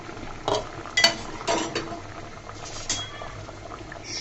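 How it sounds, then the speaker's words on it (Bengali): Water with mango peels bubbles at a steady boil in a covered pot, a close, soft gurgling and simmering with a few sharp metallic clinks and taps near the start. "সুন্দর করে ফুটে উঠেছে"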